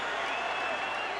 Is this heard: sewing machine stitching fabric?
no